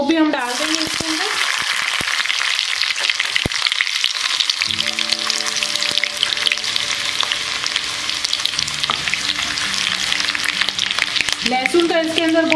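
Finely chopped garlic dropped into hot oil with cumin and fenugreek seeds for a kadhi, giving a loud, steady sizzle and crackle with stirring, while a faint music bed plays underneath.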